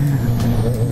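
Motorcycle with its exhaust baffle removed on a mountain ride, a loud, rough, droning exhaust note held steady and close for a brief moment, with no talk.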